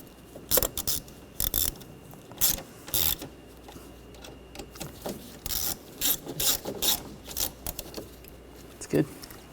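Ratchet clicking in short rapid bursts as screws holding a reservoir are tightened on a Ford Escape, close and fairly loud, repeating across the clip with brief pauses between runs.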